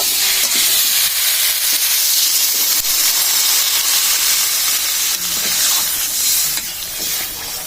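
Water poured into a hot pan of cauliflower sends up a loud, continuous hiss of steam and sizzling that stays close and strong throughout, easing slightly near the end.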